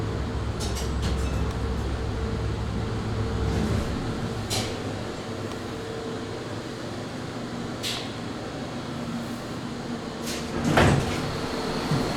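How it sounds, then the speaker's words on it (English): An old 1968 Montgomery traction elevator door slides and thuds shut amid steady mechanical hum, with a few scattered clicks and a louder clunk near the end. "Now door close."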